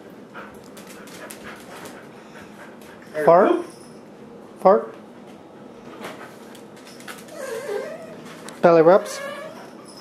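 A dog gives a few short barks and whines in separate bursts while a person speaks to it in a playful tone.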